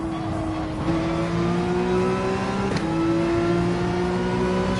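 A race car accelerates at full throttle through high-speed turns at Red Bull Ring in Gran Turismo 7, its engine note climbing steadily through the gears in a loud, continuous, close whine with a brief dip at each upshift.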